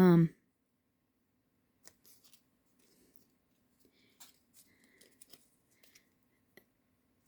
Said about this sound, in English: I'm going to cut her horn out first